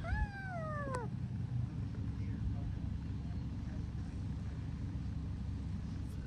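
A cat gives one short rising-falling meow near the start, then steady traffic or engine rumble continues underneath for several seconds.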